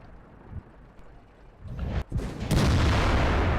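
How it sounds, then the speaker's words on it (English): SU-152 self-propelled guns firing shells in World of Tanks: a couple of muffled booms, then a heavier blast that turns into sustained rumbling noise, moderately loud, with no talking. "our SU-152's realise and starts laying some shells down"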